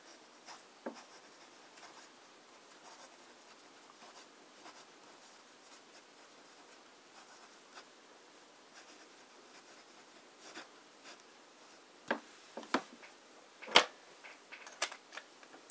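A pen writes on paper with Parker Penman Sapphire ink, a faint, intermittent scratching that runs through long quiet stretches before a few louder taps and strokes near the end.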